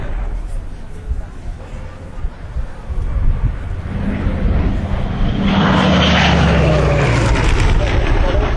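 A Hawker Hurricane Mark IV fighter flies a display at Dunsfold, its propeller engine droning and swelling louder as it approaches and passes, with wind buffeting the microphone.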